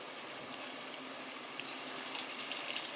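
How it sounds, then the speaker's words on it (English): Water pouring steadily into a pan on a stove for gravy, a continuous hissing trickle with a few small splashes toward the end, close and fairly quiet. "I'm going to add a little bit of water"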